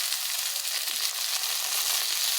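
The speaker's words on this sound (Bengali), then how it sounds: "পটল আলুটাকে ভেজে নেব।" Potato and pointed gourd fry in a pan with salt and turmeric, giving a steady, close, bright sizzle that crackles continuously without pause and without any voices.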